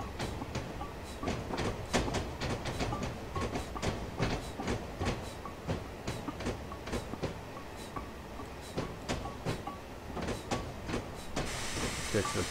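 A Black 5 steam locomotive in a Train Simulator winter run on the North Norfolk Railway, with rhythmic chuffing exhaust beats and a faint hiss of steam, moderately quiet and steady, with a burst of steam near the end.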